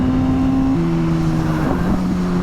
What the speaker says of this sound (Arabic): صوت الشكمان وانت بتسقط الكويك شيفتر كده كده